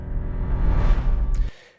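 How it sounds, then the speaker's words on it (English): A whoosh effect for a wedding teaser sweeps through in under two seconds, a dense rushing swell that peaks midway and drops away sharply with a short airy flick before fading out. "That coupled with a whoosh sound effect from the wedding sound effects pack."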